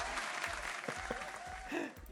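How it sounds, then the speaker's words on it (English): Applause from a live audience for a drag performer at a show, a steady mass of clapping lasting about two seconds with a brief swell near the end. "So that was the wonderful Ash Phoenix, another round of applause"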